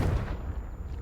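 A heavy, rumbling blast from the Confringo spell in Hogwarts Legacy, a brief, dense low boom filling the moment.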